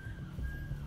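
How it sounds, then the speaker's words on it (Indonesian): A faint, thin whistle drifts in from somewhere inside an abandoned tourist site, one sustained high tone held over a low background hum, distant and quiet with no talking. "Ada yang siul ya?"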